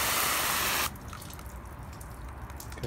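Water is flooded onto a ceramic-coated car surface, a steady close hiss of pouring and splashing that cuts off abruptly after about a second, leaving faint dripping and trickling.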